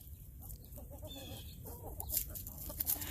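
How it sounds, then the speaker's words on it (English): Backyard chickens cluck and murmur quietly in a short burst of soft, scattered calls, faint against a low steady background hum, with no voices. "Well, the birds are sounding again."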